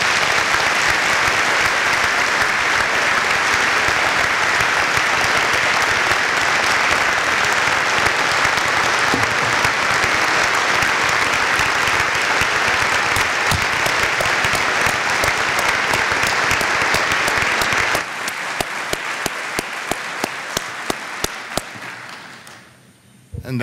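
A room of about 1,000 people at a regional chamber of commerce event stand and clap, a loud, dense roar of applause that persists, then thins into scattered claps before fading out.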